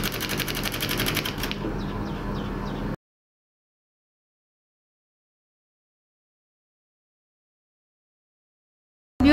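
A sewing machine runs steadily for about three seconds while stitching the hem of a men's shirt, then stops and leaves a long silence.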